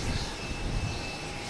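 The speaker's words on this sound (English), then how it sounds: "JetBlue heading to Orlando in A320" A JetBlue Airbus A320 jet bound for Orlando at Boston Logan gives off a brief, steady engine roar with a faint high whine, continuous and moderately loud.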